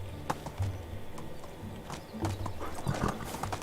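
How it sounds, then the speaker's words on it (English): Horse hooves clip-clop in the video game Medieval Dynasty, a few uneven close hoof knocks over a soft background, with faint bird calls. "So if we look at our female horse"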